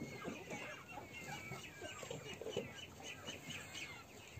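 Chickens cluck and chatter continuously at moderate distance, a busy farmyard flock with turkeys nearby, overlapping short calls and light background noise.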